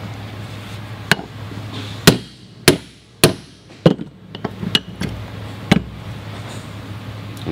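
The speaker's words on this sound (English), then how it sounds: "fixture to once again support the drive surface. Using a 6-point staking tool." Sharp metallic hammer strikes on a 6-point staking tool, setting a bearing into a car AC compressor clutch pulley held in a fixture: about a dozen loud, close, ringing blows at irregular intervals over a low steady hum.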